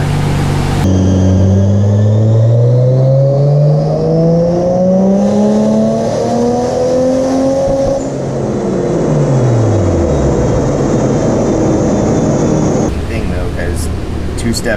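Toyota 2JZ engine in a Nissan 240SX revving on a dyno, its loud strained drone climbing steadily in pitch toward a 5,500 RPM limiter, then dropping away and settling at a rough high idle, close and continuous.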